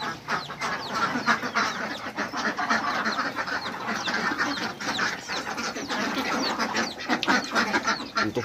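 Muscovy ducks quack and chatter continuously in a poultry yard alongside chickens, a dense, busy flock chorus close by with no talk over it.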